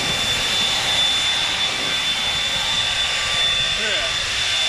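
Toro 60V handheld leaf blower running in turbo mode and pushing a pile of leaves, a loud, steady broadband whoosh holding without a break from start to finish.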